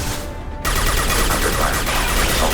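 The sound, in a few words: gunfire at the player in the video game Mass Effect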